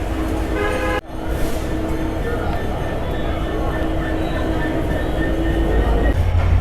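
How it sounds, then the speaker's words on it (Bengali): Barendra Express train departing Santahar railway station, a steady loud rumble of wheels and carriages rolling close by after a sharp thump near the start, with a faint horn tone in the mix. "Barendra express Santahar railway station থেকে ছেড়ে গেল"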